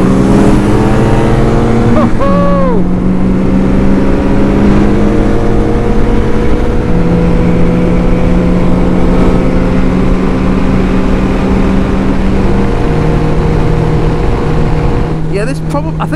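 A Kawasaki ZX12R motorcycle engine pulls hard through the gears, each rising rev sweep dropping at a shift, loud and close with a steady roaring drone over road rumble.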